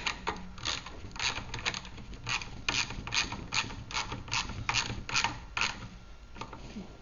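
Quick, evenly spaced metallic clicks of a ratcheting tool tighten a nut on the wheel of a Theta Series magnetic sweeper, a close steady run of ratchet strokes with no talk.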